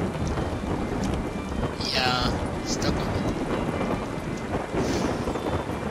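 Storm ambience from the video game Yonder: a steady wash of heavy rain and wind with low rolling thunder throughout, and someone talking briefly over it.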